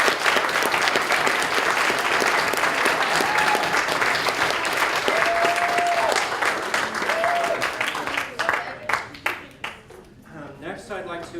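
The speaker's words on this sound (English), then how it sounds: "Okay, let's give them a round of applause." Audience at a school board of education meeting applauding a class presentation, a full, steady clapping crowd that gradually breaks up into scattered claps and fades, with faint voices mixed in.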